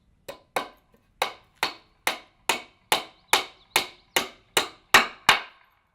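Hammer blows drive nails through a wooden bottom plate into the studs of a conventionally framed house, about a dozen sharp, evenly spaced strikes, close and loud, with no talk.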